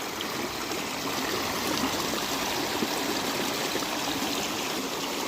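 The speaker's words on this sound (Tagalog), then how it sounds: "Nakaka-relax yung agos pa lang ng tubig" Continuous rushing and babbling of flowing river water, close and steady, with no voices.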